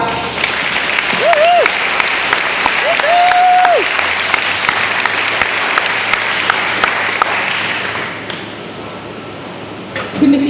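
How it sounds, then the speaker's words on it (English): An audience at a graduation ceremony applauds for graduates whose names are read out, a dense, sustained roomful of clapping that holds steady for about eight seconds before thinning out and fading, with a couple of brief tonal squeals early on. "I think they all deserve a clap, even if they're not here."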